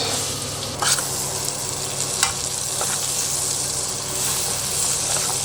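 Shallot sizzling in plenty of hot butter in a pan while hunter sauce is being made, a steady close frying hiss with occasional stirring scrapes, no talking.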